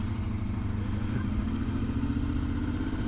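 A Honda VFR 750 motorcycle engine idles in first gear with a steady, low, throbbing rumble, close and constant throughout, with no voices.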